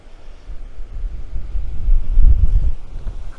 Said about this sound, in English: It is breezy up here.